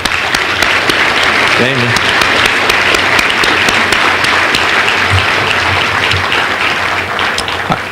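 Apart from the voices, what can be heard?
audience applause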